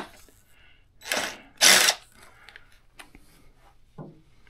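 An impact gun zips out a 12mm seat bolt on a 2024 Suzuki DR650 motorcycle in two short, loud bursts close by, followed by quieter clicks and a soft knock.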